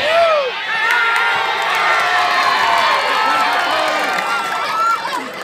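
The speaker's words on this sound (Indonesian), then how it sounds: "Tepuk tangan para penonton." A crowd of spectators at a match cheers and shouts continuously, a loud, dense roar with whoops rising and falling, while a commentator talks over it.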